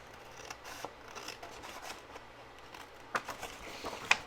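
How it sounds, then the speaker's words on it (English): Scissors cut up a score line in paper, a quiet close run of soft snips and rustles, ending in a couple of sharper crisp clips. "And then just cut up on this score line."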